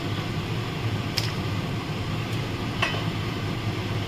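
Fish pieces sizzling in a tomato and potato gravy, a steady close bubbling hiss with a few sharp clinks or scrapes on top and no voices.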